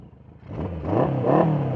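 A Honda-style 550 single overhead cam motorcycle with a Yoshimura exhaust revs up on a humid mountain road, its engine note rising in two swelling pulls over steady rumble, close and fairly loud with no talk.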